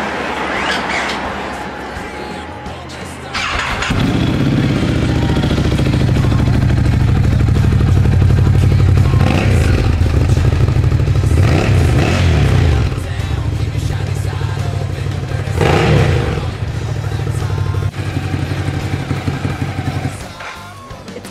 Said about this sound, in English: this is one of those bikes that stock standard exhaust sounds good. Like it sounds deep and throaty